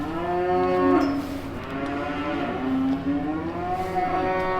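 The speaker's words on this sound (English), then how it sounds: "The heifers are kind of loud here." Excited heifers in a feed bunk moo loudly and repeatedly, long drawn-out bellows overlapping one another from close by, with no talking.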